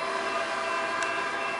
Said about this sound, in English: Then this Metrolink moves out.